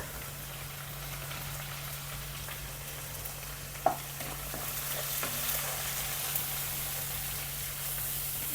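Curry leaves dropped into hot oil in a pan while cooking biryani, giving a steady close crackling sizzle throughout with a brief louder spit partway through and a constant low hum underneath.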